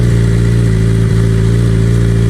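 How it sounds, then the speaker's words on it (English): A motorcycle engine runs steadily after being started with the key, kill switch and primed fuel pump, a loud, close, even idle drone with no talking. "and then just start the bike."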